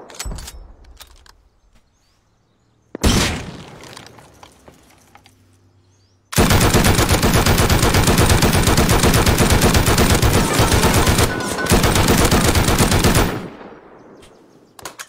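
Gunfire in a video game shooter: a single loud shot, then a long sustained burst of rapid automatic fire lasting several seconds, loud and close, with sparse clicks between.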